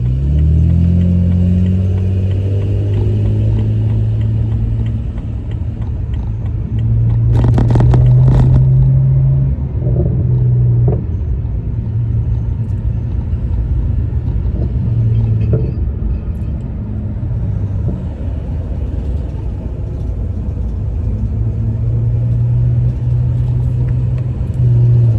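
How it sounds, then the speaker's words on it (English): A BMW E90 328i with an N52 engine and aftermarket exhaust drones steadily while driving, its pitch rising and falling as the car accelerates and shifts, with a brief louder burst partway through. "that is my exhaust setup on my BMW 328i with the N52 engine"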